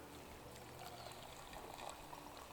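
Water poured from a Trangia 25 camping cook kit while preparing gorse flower tea outdoors, a soft continuous trickling splash held steady and fairly quiet throughout.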